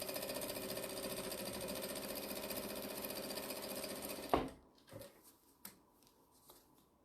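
Sewing machine stitching a tote bag made from jelly roll fabric strips, running in a steady, dense whir for about four seconds before stopping abruptly, followed by a few faint clicks and handling sounds.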